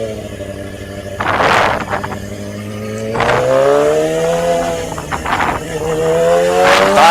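A Yamaha R6 sport motorcycle revs repeatedly on the road, its engine note rising and falling in several sharp surges with a faint voice underneath, loud and close throughout.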